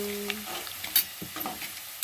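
Onions frying in a pan as they turn light brown, with a soft steady sizzle and scattered scraping and clinking of stirring, plus a few sharper knocks near and loud.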